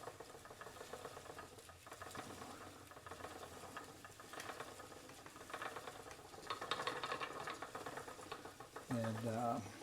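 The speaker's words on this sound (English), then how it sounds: "I'm spinning some combed top wool right now." A vintage Castle spinning wheel spins combed top wool, giving a steady soft whirring patter with faint rhythmic knocking throughout, and a brief voice comes in near the end.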